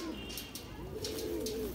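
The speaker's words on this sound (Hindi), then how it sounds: "यह भी एक चंदा खानी कबूतर है जी" A Chanda Khani pigeon coos low and softly in a couple of drawn-out calls, set against a steady hum of background noise.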